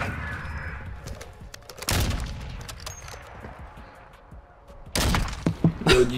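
An Intervention sniper rifle firing in a video game: a loud sharp shot near the start and another heavy crack later, amid scattered game clatter and thumps.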